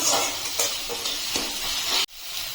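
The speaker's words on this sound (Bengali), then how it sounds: "মশলাটা একটু কষিয়ে নেব।" Spices with salt, turmeric and chilli powder sauté in a pan for potato patties, a close, steady hissing sizzle with faint stirring that cuts off abruptly near the end; no voices.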